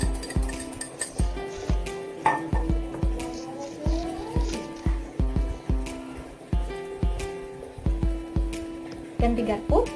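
Fork whisking a mixture vigorously in a bowl during an emulsion test, rapid rhythmic clinks of metal against the bowl repeating steadily, close and distinct, with a voice speaking briefly.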